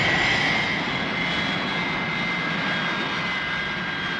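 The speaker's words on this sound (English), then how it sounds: "The airstrip is more than adequate for your plane." A plane's engine drones on the glide path toward an airstrip, a loud, steady jet-like roar holding level throughout with no break or voices.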